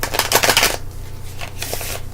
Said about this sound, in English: these cards shuffle really easy